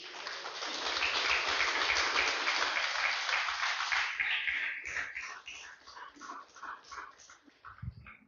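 Loud congregational applause during a Spanish-language church sermon, a dense burst that swells over the first seconds, then thins into scattered claps and a few voices.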